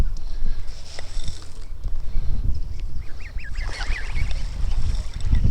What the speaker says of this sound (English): And there's the geese